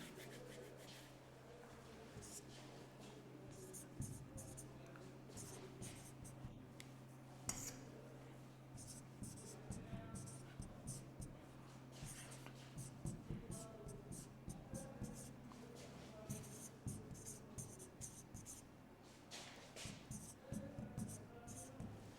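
Chalk or marker scratching across a classroom board during an English grammar lesson, a steady run of short rubbing strokes throughout, with a teacher's voice heard intermittently.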